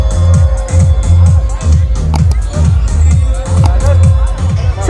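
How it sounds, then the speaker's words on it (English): A large crowd at a beach party bar on Baga Beach at night, with busy voices chattering under loud, thumping party music that beats in a steady rhythm. "There's so much of a crowd."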